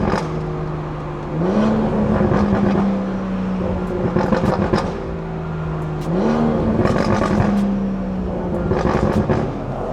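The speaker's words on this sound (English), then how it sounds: "What, a downshift?" A stage 2+ tuned BMW 340i drives along, its engine note dropping and rising in pitch as it shifts, then pulling steadily again, a close, continuous drone from inside the car with no talking.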